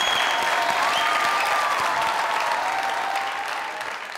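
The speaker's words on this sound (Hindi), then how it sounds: "जोरदार तालियां।" A comedy show audience bursts into loud, dense applause, a sustained roar of clapping that fades slightly at the end, with faint music tones underneath.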